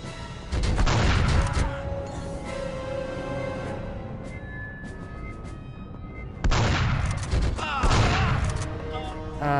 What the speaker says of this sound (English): Okay, I didn't get a sniper rifle here, but I got a rocket launcher.